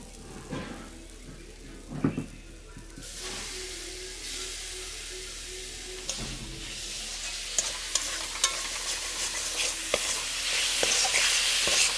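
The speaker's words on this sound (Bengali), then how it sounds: "চিকেনের কিমাটা দিয়ে দেওয়ার পর ভালো করে মশলার সঙ্গে মিশিয়ে নিচ্ছি।" Chicken mince sizzles in a pan as it is stirred into fried spice masala for keema kachuri, with scraping spoon strokes over a frying hiss that grows steadily louder and brighter; no talking.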